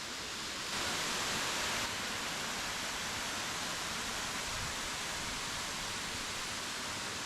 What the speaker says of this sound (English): So this waterfall kind of corkscrews here around